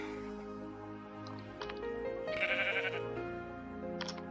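Sheep in a video game bleat a few times, with a wavering cry in the middle over a steady synthetic music bed, moderately loud and without talk.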